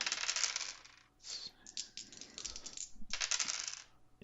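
Five six-sided dice clatter and rattle across a tabletop in several bursts of bright tumbling clicks during a tabletop role-playing game, close and clear, with no talking.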